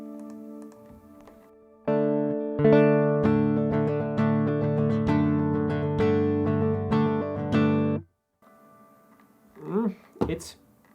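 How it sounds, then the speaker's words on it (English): A guitar played through a magnetic pickup, sounding somewhat like a thin electric guitar, rings out in close, loud strummed chords for about six seconds before a voice briefly speaks. "this is the sound of the magnetic pickup"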